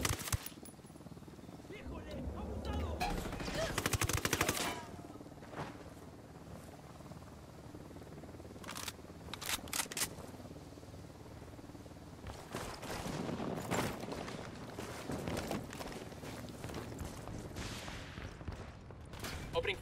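Bursts of gunfire and a fusillade in a cartel-raid video game, with loud volleys near the start and scattered shots later, mixed with a helicopter-like drone and voices talking throughout.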